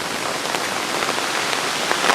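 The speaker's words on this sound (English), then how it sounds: "the rain has just picked up and gotten" Steady heavy rain from Hurricane Gustav pours onto surfaces in a dense, continuous hiss, close and without voices.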